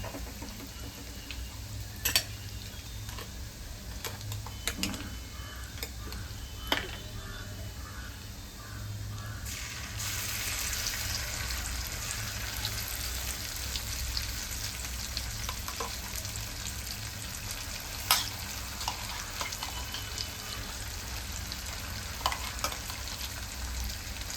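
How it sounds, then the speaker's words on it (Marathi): Masala paste sautéing in oil for restaurant-style matar paneer, a steady crackling sizzle throughout with occasional sharp ticks and stirring clatters, the frying growing louder and brighter partway through. "आता मसाला चांगला तेलात परतून घ्यायचा आहे।"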